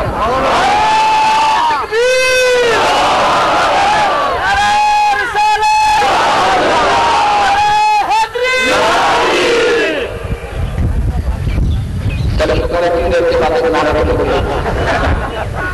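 A crowd at a religious gathering chants slogans in loud rising and falling waves of many voices, with bursts around the start and middle, then a more diffuse roar of crowd noise toward the end.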